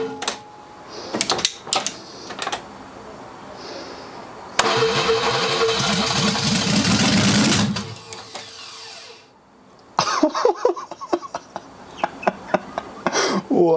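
An old barn-find BMW six-cylinder, 44 years old and unstarted for 30 years, cranks, fires and runs roughly for a few seconds, loud and close, then cuts out amid clatter and handling noises.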